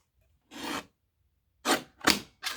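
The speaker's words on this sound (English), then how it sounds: "I'm going to put this into my little trimmer and cut this down to 1 7/8" A small paper trimmer cuts card in several short, sharp swipes: one rasping stroke, a pause, then three quick cuts in succession, close and clear against silence.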